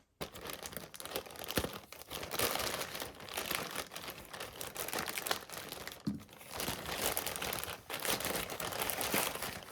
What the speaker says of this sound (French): Allez, c'est parti, on va déballer ça directement.